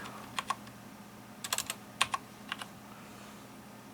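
Keys tap on a computer keyboard in a few short bursts of clicks, close and fairly quiet, with pauses between the groups.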